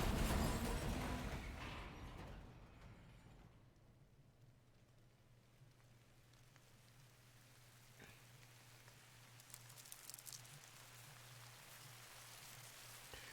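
Rain falls in the video game Death Stranding, a soft, steady patter that lingers quietly after a louder burst at the start, with faint higher splashes in the second half.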